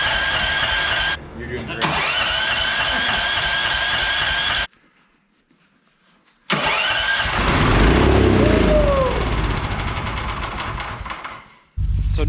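A gas auger engine cranking and trying to start on a farm, loud close bursts of rough mechanical churning with a silent gap between attempts and a brief pop, while a voice speaks over it.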